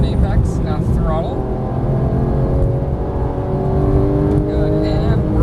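A Porsche 991 GT3 engine revs hard on a race track, a loud, steady sustained roar with rising harmonic sweeps as the throttle is squeezed, continuous for the whole stretch.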